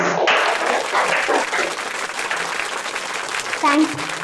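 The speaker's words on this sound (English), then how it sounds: "Please give her big round of applause to welcome her." A round of applause welcomes a speaker at a Sunday seminar session: dense, steady clapping from the audience throughout, with a brief voice near the end.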